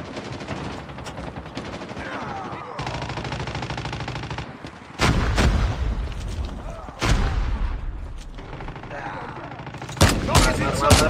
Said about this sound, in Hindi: ये आया सामने, अंधाधुंध फायरिंग चल रही है।